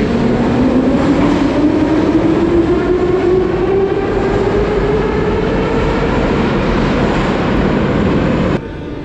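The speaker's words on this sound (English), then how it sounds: "The trains here run pretty quick, like clockwork." A Kyiv metro train at Arsenalna station accelerates with a loud, rising electric motor whine over heavy rumbling wheels, holding steady for about nine seconds before the level drops abruptly, with no one speaking.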